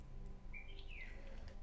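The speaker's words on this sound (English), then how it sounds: "You can hear some birds singing." Faint bird chirps and a short tweeting song come through party chat during a Destiny 1 match, brief and thin over a steady low hum, with no talking.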